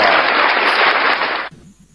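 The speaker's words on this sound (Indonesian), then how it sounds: "Tepuk tangan untuk Pak Nacir" Applause for Pak Nacir: dense, loud clapping from a crowd that fills about a second and a half, then cuts off abruptly into quiet room tone.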